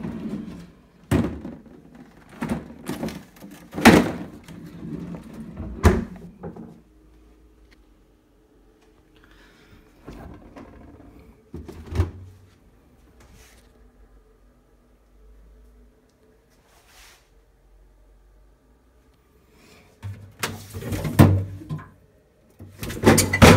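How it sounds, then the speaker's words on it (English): Large freezer drawers slide out of a Haier HB14FMAA American fridge freezer, giving a series of plastic thunks and rattles in bursts, then quiet stretches, then another cluster of knocks near the end. "It also has two large freezer drawers which can be removed"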